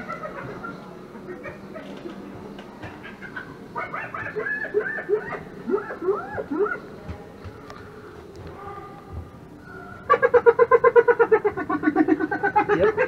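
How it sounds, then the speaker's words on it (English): Recorded hyena call played from a museum exhibit: a run of rising whooping and cackling cries, followed near the end by a rapid, rhythmic giggling burst, heard at moderate volume against a quiet indoor hall background. "you guessed it, hyena."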